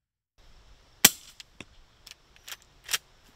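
Several sharp, muffled suppressed .38 Special gunshots in the game Road to Vostok, spaced irregularly over a few seconds, each a brief snappy pop with a short tail, fairly quiet overall.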